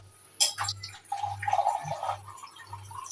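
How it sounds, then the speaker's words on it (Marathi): Water splashes and trickles into a cooking pot for Agri-style crab curry in short bursts, with a low steady hum underneath. "आता मी एक ग्लास पाणी घातलं आहे अजून थोडंसं पाणी घालणार आहे"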